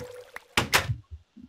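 A door opening in a video game, heard as a couple of quick loud thumping, scraping bursts in the middle, followed by faint low knocks in an otherwise quiet scene.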